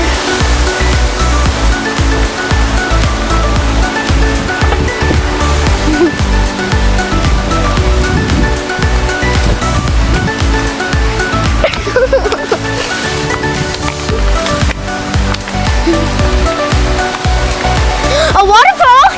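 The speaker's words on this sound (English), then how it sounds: "A waterfall! Look, a waterfall!" A garden waterfall at a Florida Keys estate splashes and rushes continuously, close and loud, with voices speaking over the steady watery roar.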